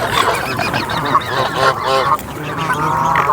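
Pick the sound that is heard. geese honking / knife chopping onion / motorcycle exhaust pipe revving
geese honking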